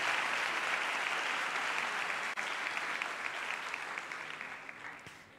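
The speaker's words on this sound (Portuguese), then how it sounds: "seja acolhido na comunidade de fé com uma salva de palmas" Catholic congregation giving a round of applause to welcome a newly baptized person at Sunday Mass, a full, sustained sound of many hands clapping that stays loud and dense before slowly tapering toward the end.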